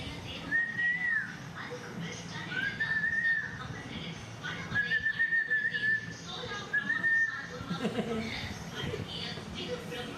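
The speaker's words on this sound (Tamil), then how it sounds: "விசில் அடிங்க நீங்கள்." A grandfather whistles for a baby in four short, wavering whistled phrases with gaps between them, over background room noise and murmuring voices.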